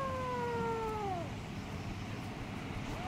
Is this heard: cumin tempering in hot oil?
no